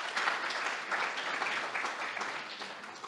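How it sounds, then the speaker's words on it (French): Steady audience applause at a school event honouring the conductors, dense and continuous across the clip at moderate loudness with no talking over it. "Je vous demande de les applaudir encore une fois."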